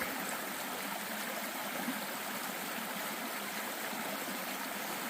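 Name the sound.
stream water flowing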